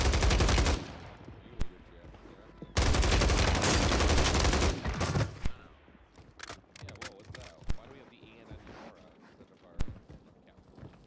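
A KAP 45 rifle fires in Warzone on Rebirth Island, with two loud sustained bursts of automatic fire followed by scattered single shots and faint distant fire while players talk.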